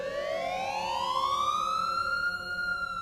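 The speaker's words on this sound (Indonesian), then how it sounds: "sirene ambulans terdengar mendekat" Ambulance siren wailing close by, one long rising electronic tone sweeping steadily upward and holding, fairly loud and alone.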